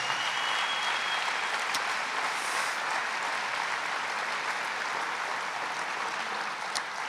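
A church congregation applauds during a sermon, a steady, soft wash of many hands clapping that stays even and fairly distant for the whole stretch, with no talking over it.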